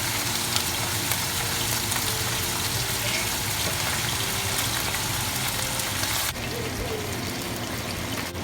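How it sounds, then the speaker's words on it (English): Pork loin sizzles loudly and continuously in hot oil, with a dense crackle that eases slightly toward the end. "Now that the oil is hot, we can start frying the pork loin."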